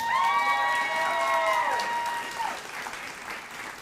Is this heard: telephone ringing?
no